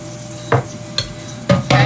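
Bacon grease in a non-stick pan gives off a few short bursts of sizzle and scraping, close by and spaced irregularly, with quiet gaps between them.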